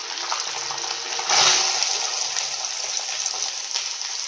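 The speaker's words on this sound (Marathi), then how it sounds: "कांदा मी टाकून पूर्ण नीट मिक्स करून घेतला" Onion sizzles and fries in a hot pan while being stirred, a steady close hiss with a brief swell of louder frying.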